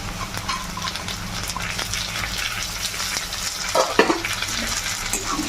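Onion, crushed garlic and tomatoes fry together in a pan for a mushroom jhal, a close, busy sizzle broken by scraping stirs and a louder burst of hissing as the wet tomatoes hit the oil.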